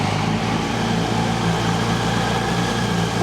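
Yamaha R1-engined kit car with twin-exit Scorpion exhaust idling steadily and close, a dense low throbbing drone that holds without pause.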